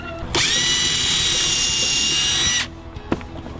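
A cordless power drill drives a screw into a wooden veggie box, one loud sustained whirring burst of about two seconds, with a couple of light clicks and knocks after it stops.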